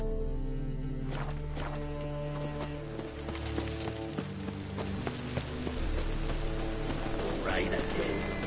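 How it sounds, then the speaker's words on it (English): Steady rain falls in a town in the fantasy video game The Witcher 3: Wild Hunt, a dense hiss running throughout beneath layered music, with faint footsteps and possible distant thunder. "Rain again."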